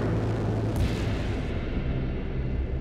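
A gunshot in the video game Children of the Sun: a heavy, booming blast with a long rumbling, explosive tail that fills the moment, loud and close with no voices.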